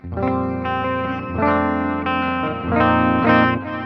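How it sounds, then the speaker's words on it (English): Sustained electric guitar chords through a Mooer amp modeler, drenched in spacious delay and reverb, repeats smearing together into a wide, ambient wash, played alone with swells every second or so. "Let's add a delay."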